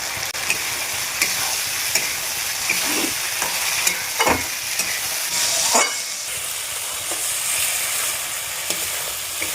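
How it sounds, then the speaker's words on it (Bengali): Soya chunks with fried spices are stirred in a pan, steady sizzling broken by scraping spatula strokes and occasional bursts of louder crackle, close by with no speech. "মশলা আমার ভাজা হয়ে গেছে নাড়াচাড়া করবো"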